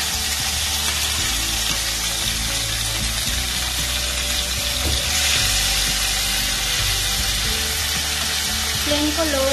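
Chilies and onions fry in hot oil in a pan for paneer butter masala, giving a steady, loud, continuous sizzle with faint stirring throughout.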